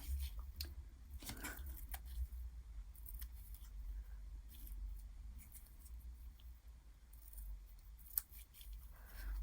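Small scissors snip through a nail decal sheet, a few sharp crisp cuts scattered among quiet paper rustling and handling noises at close range.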